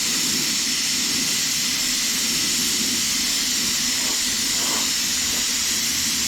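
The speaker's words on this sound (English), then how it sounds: "my air hose is, as always, leaking" Steady broadband hiss from a leaking air hose feeding an airbrush during demolition derby rim painting, continuous and fairly loud throughout with no talk.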